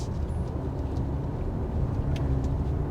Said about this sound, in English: I'm in this gravel lot, which I'm gonna turn this vehicle around and see what the turning radius is